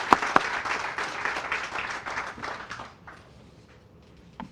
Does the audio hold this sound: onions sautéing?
no